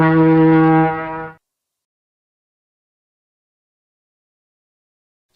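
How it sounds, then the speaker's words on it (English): A ship's deep foghorn sounds one long, loud, steady blast for just over a second, then stops, leaving silence. "Ship."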